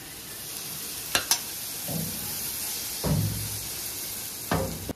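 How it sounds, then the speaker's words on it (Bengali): Spicy egg-and-flour pancakes (gola ruti) fry in a pan with a soft, steady sizzle, broken by a few sharp clicks and scrapes of a spatula and short bursts of louder hissing as the batter is turned. "গোলা রুটিগুলো এই যে ভেজে নিচ্ছি"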